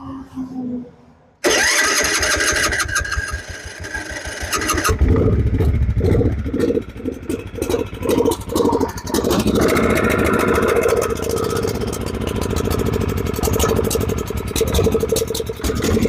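A mini tractor engine cranks and catches, then settles into a loud, uneven running idle with chugging pulses and occasional revs, a person speaking briefly nearby.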